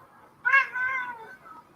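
A pet cat lets out a single close meow lasting about a second, clear and alone against a quiet background.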